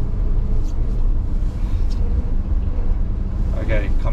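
A 1966 Chevrolet C10 pickup truck pulls away from a turn and gathers speed, giving a loud, steady low engine and road rumble inside the cab while people talk over it.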